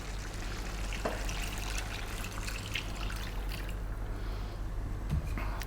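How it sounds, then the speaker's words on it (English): Water left from boiling meat pours into a pot in a steady soft stream with light trickling and splashing, close and fairly quiet over a low hum, with no talking. "we're going to add the water that we boiled the meat in"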